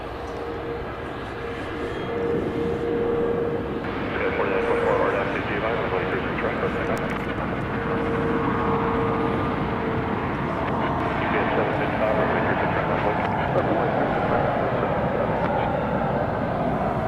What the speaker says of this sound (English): I think looks like it's headed down the central taxiway betwixt runways